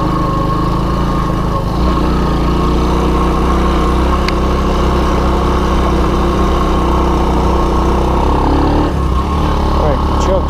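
A Honda ATC185S three-wheeler idles with the choke on in a loud, steady, close drone that holds an even pitch and throbs throughout, with no talking over it.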